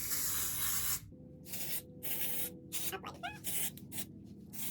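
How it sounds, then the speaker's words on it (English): Hairspray hisses from an aerosol can in a long burst, then several shorter sprays follow in quick succession, close up. "So I'm gonna spray"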